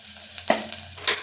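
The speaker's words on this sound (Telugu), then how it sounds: "ఇలా అల్లం వెల్లుల్లి పేస్ట్ అయితే నూనెలో వేగాలండి, పచ్చివాసన పోయే వరకు." Ginger garlic paste fries in hot oil, a close steady sizzle broken by two short scraping stirs of a spoon in the pan.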